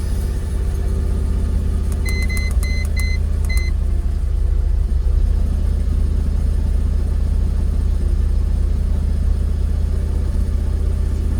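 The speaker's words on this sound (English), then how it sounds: "I'm trying to keep the revs steady, but it's difficult to keep the engine running" Jaguar XKR engine idling with revs held steady, a constant low rumble throughout, a diagnostic tool beeping several times early on.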